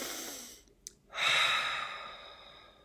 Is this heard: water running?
no